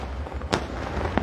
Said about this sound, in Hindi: पटाखों से गूंजता हुआ आसमान